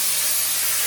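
Froth-Pak spray foam kit spraying two-part insulation foam in a greenhouse: a short, loud, steady hiss.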